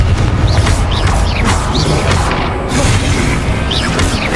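Confringo fire spells bursting in Hogwarts Legacy, a string of loud booming blasts and crashing impacts repeating across a dense, busy game soundscape with mechanical clanks.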